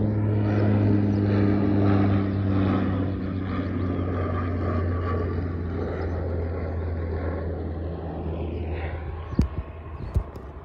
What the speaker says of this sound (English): There's a plane coming over.